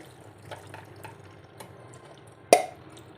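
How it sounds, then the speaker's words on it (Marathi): Boiled mixed vegetables drain through a large strainer set over a pot, giving a faint trickle of water followed by one sharp, close splash near the end. "आता आपण या भाज्या पूर्ण इथे गाळून घेणार आहोत"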